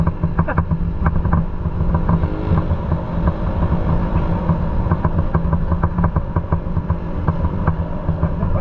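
A Raider 150 motorcycle with a stock carburetor revs loudly up close, its engine rumbling steadily with sharp repeated pops and crackles throughout.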